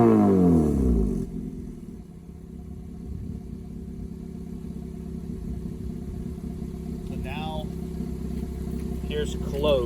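A 2019 Acura TLX engine idles with its exhaust cutout valves closed, near-stock. A louder burst at the start quickly settles into a steady, subdued low drone, with a voice speaking briefly over it.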